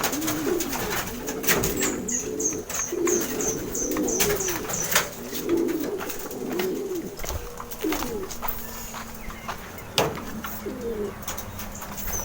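Pigeons coo repeatedly on a rooftop, their soft throaty calls rising and falling in a steady rhythm close by, with occasional wing flaps and light chirps.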